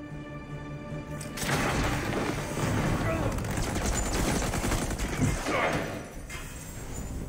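Heavy gunfire in a video game, dense overlapping shots and bursts forming a loud, sustained barrage for several seconds before easing off, with voices mixed underneath.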